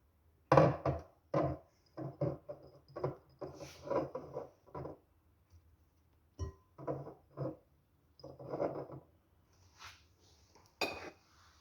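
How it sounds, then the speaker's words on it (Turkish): Dishes and cutlery clatter in a kitchen during salad preparation, a series of close, sharp clinks and knocks coming in irregular bursts with short quiet gaps between them. "üzr istəyirəm qabların səsi gəldiyi üçün"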